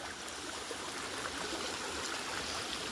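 Water spilling out of a full lake, a steady broadband rushing and trickling flow, close and continuous with no voices.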